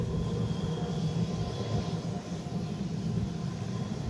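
A jet airliner bound for Atlanta rolls along the north side of runway 8, its engines a steady, broad rumble that holds at an even level throughout, moderately distant, with no voices.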